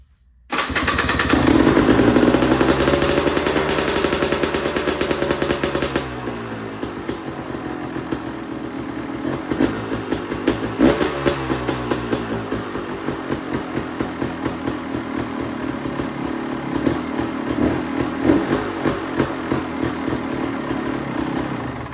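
A KTM motorcycle engine, just repaired after a starter bendix replacement, cranks and fires up at once, then runs loud and close with a steady rumble and occasional throttle blips for the rest of the clip.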